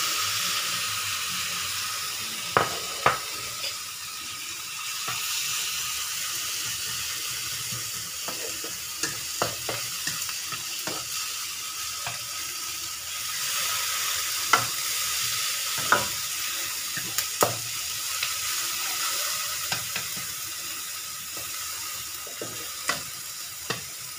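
Pounded anchovies and chillies fry in a pan with okra, giving a steady loud hiss with occasional sharp crackles and the scrape of stirring.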